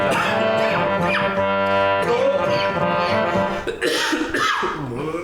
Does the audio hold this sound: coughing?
yes